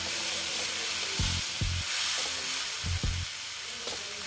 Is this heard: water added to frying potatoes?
yes